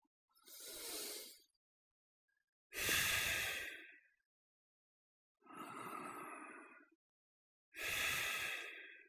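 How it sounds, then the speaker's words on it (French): Slow bhastrika pranayama breathing: four long, forceful breaths through the nose, each about a second and a half, spaced by pauses of near silence, close and clear with no talking. "il est important de démarrer par les bhastrika lentes, comme ça."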